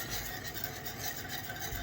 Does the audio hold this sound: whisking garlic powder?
yes